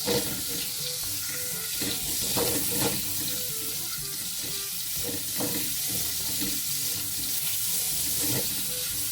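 Vegetables frying in oil in a pan, busy crackling sizzle with repeated sharp pops and spatters over a steady hiss, close and clear, plus faint clinks of cookware.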